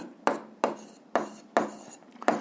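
Five evenly spaced scratchy strokes of writing on a board or paper sound close and clear, with no voice.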